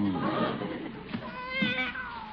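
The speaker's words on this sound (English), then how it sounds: "He's quite a feline, all right." Cat meows in drawn-out, wavering cries, fairly faint, amid an old radio comedy scene with background room noise and no talk over the calls.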